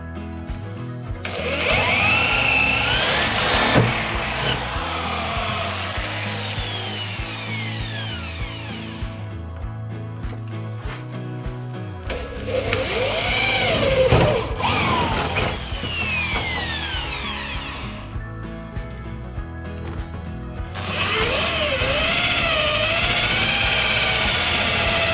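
Power tool drilling a series of holes in repeated long bursts, each grinding whine rising and falling in pitch, with short pauses between them, close and loud, with no voices.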